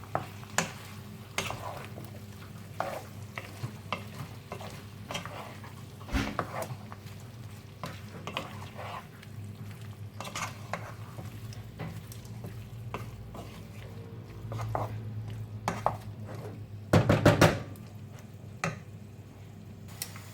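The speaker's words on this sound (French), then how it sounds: "je mélange le tout et on va laisser cuire gentiment tout ça" Paella with peppers cooking gently in a pan, a low steady sizzle under occasional scraping stirs and ticks, with a brief cluster of louder clattering strokes late on.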